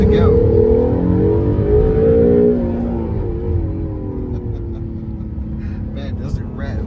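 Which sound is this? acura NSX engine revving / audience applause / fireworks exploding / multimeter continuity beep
acura NSX engine revving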